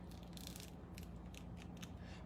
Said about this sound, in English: I'm using the scissors to kind of trace around here.